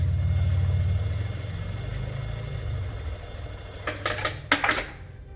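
A sewing machine runs while sewing a curve on a fabric mask, its motor humming for the first part, then a brief pause followed by a few short clattering bursts near the end.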